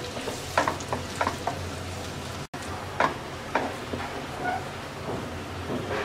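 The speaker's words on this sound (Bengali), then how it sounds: "রসুনটাকে হালকা ভেজে নেব।" Crushed garlic fries lightly in hot oil for a sweet olive pickle, a soft steady sizzle with a few scattered sharper pops and spoon taps, with one brief dropout midway.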